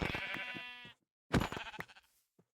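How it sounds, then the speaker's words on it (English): Two bleats from a Minecraft sheep, the first a sustained nasal cry, the second shorter and wavering after a brief pause, close and clear with no talk. "I need to get these sheep over here."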